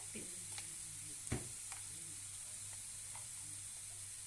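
Eel fish curry with salt and turmeric stirred in a pan, a steady faint sizzle with a sharp utensil scrape and a few light clinks, close and quiet.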